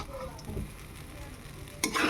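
Food being stirred in a hot pan, a soft steady sizzle with a few quiet scrapes, then a louder burst of clattering and crackle near the end, with no one talking.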